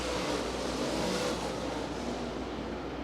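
Super late model race cars racing at Bedford Speedway, a dense continuous roar of several engines at a distance, steady and broad without clear passes, with no voices over it.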